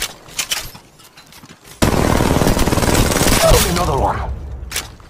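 Gunfire in the Apex Legends Mobile video game: a few scattered shots, then a dense, loud burst of rapid fire and cracking impacts, with a voice heard briefly in the mix.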